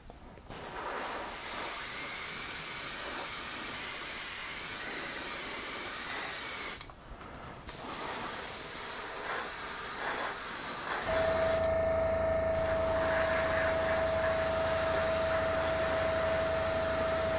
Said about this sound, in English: I'm going to try to finish spraying this barrel